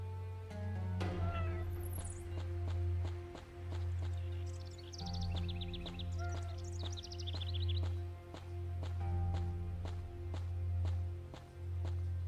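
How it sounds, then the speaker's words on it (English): A cat meows repeatedly in Ankh: Battle of the Gods, its plaintive cries rising and falling over a pulsing, rhythmic music loop and scattered clicking steps. "That's just typical of cats. They'll scramble up anything and then get too scared to climb down."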